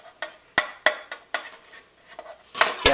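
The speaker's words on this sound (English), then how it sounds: "Now we just want to put them through a strainer." Cooked boba tapioca balls are tipped and shaken through a fancy European-style metal strainer, producing a quick irregular series of sharp clinks, taps and scrapes, close and fairly quiet, with no voices.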